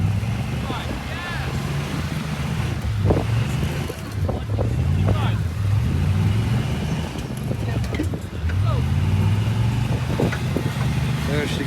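An off-road vehicle stuck in beach sand at St. Augustine Beach revs its engine in repeated rising surges. The engine is loud and steady, with some outdoor wind noise.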